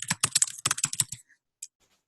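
Rapid keystrokes on a computer keyboard type out a name in a quick burst of close, crisp clicks, then one last isolated tap after a short pause.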